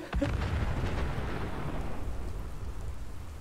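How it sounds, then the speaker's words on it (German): Explosion in Fallout 4 on PC, a heavy broadband boom that bursts in at the start and then rumbles on as a sustained low roar and crackle through the short stretch, loud and alone with no talk. "Oh Gott, der explodiert auch gleich. Oder der ist gerade explodiert."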